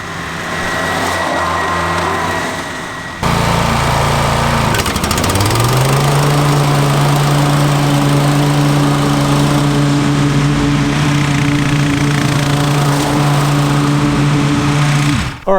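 Toro 60V TimeMaster electric lawn mower mulching grass, a loud close steady motor whine that starts abruptly, then settles into a sustained droning hum with grassy rustle.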